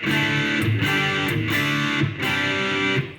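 A heavily processed electric guitar through a Korg A5 effects processor factory preset rings out sustained chords in three repeated swells, thick and distorted with effects.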